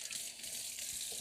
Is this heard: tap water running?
yes